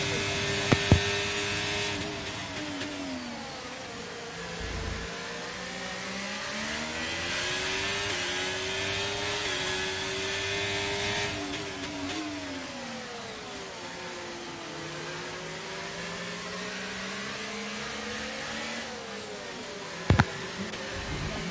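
Several race cars running close together in an AER round at Las Vegas, their engines droning and shifting pitch steadily as they jostle, with a couple of sharp clicks near the start and the end.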